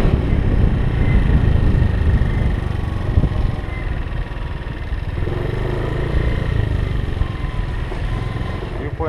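Motorcycles ridden up a steep slope to a viewpoint in Hua Hin, their engines holding a loud, continuous mid-pitched drone with wind rush that eases slightly partway through, with some talk mixed in.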